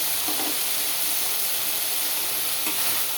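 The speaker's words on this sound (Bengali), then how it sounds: "এটা একটু ভাজা ভাজা করে নিই, তারপরে দেবো" Pieces of fried potato sizzle in hot oil in a pan with spices as a curry is cooked, a steady bright crackling hiss filling the whole stretch with no talk.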